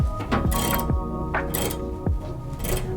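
A Porsche 914 windshield wiper motor runs on the bench, whirring and clicking in a repeating mechanical cycle roughly every half second, close and steady.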